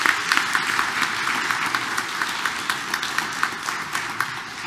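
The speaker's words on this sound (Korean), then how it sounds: "우리 박수 한번 보내줄까요?" Church congregation at a Korean Catholic Mass applauding together, a steady dense patter of many hands clapping at moderate volume throughout.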